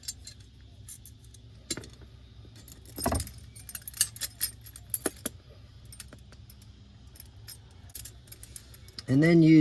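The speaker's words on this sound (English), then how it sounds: "use those two 8mm spanners to tighten them up" Spanners tighten the bolts of a fire extinguisher cage on its bracket in an Isuzu NPS, giving scattered light metallic clinks and taps of hardware in a quiet space, ending in a sudden louder clank and scrape.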